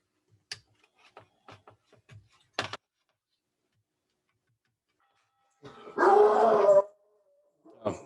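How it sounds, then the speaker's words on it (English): Dogs bark in a short loud burst from nearby, a cluster of harsh barks lasting under a second, preceded by scattered soft ticking taps and followed by a brief noise. "Oh, there go the dogs."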